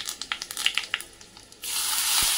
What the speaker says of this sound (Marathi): यामध्ये घालायची मोहरी, पाव चमचा मोहरी घालायची. मोहरी छान तडतडली की कढीपत्त्याची पानं आणि हिंग आणि ही मस्त खमंग फोडणी ना यावर ओतायची